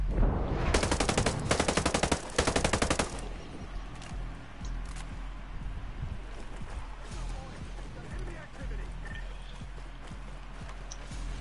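Rapid gunfire rattles loudly in a PS4 shooter game, a dense burst of shots followed by scattered thuds and distant blasts from explosions under a busy background.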